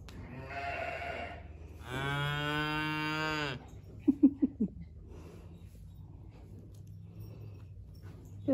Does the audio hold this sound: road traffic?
no